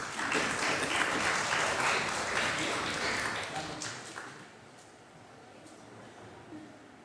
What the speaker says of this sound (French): Applaudissez pour Jésus-Christ